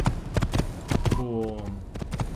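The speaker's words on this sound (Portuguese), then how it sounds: "Vamos pegar nosso cavalo, o nosso pretão aqui." Horse hooves clip-clopping at a steady trot in Assassin's Creed, a rhythmic series of hollow knocks under a voice talking over it, with a brief tonal game sound midway.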